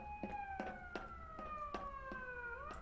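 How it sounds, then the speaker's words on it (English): Wailing police-style siren left running in a Garry's Mod zombie game, a steady two-tone electronic wail with evenly spaced rhythmic pulses, fairly faint and alone without talk. "Why did you leave the siren on?"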